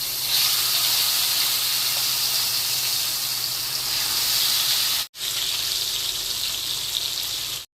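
Flour-coated pabda fish fries in hot oil with a loud, steady hiss and crackle that holds for several seconds, drops out briefly, then carries on just as strongly.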